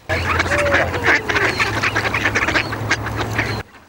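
Ducks on an unfrozen small river or pond in the Perm region in winter quack in a dense, busy chorus of overlapping calls, close and loud, with no talking.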